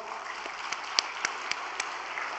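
Church congregation members applaud during an elder pastor's sermon, a soft, distant patter of clapping with a few sharper claps standing out, fairly quiet overall.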